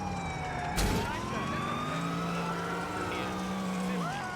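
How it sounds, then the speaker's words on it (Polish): A police siren wails in the Grand Theft Auto IV video game during a chase, loud and wavering over steady vehicle noise, with a sharp crash early and a brief burst of game talk. "Pytanie, czy mi e, gra pozwoli odpalić misję, jak mnie goni policja."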